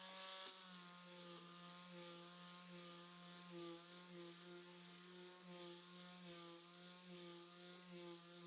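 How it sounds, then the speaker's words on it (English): A power sander runs over bleached, paint-stripped wood, a steady droning hum with a constant buzzing tone and gritty friction noise, close and unbroken throughout. "I'm just going to run the sander over it as well"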